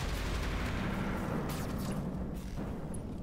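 Weapon fire in the mech video game Roguetech, a continuous rumbling barrage of booms and blasts that stays loud throughout, with no voices.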